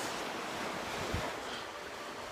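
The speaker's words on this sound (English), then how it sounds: "You can hear the waves." Ocean surf breaking along the rocky coast of Malta near boats offshore, a steady wash of waves with some wind noise, heard alone without voices.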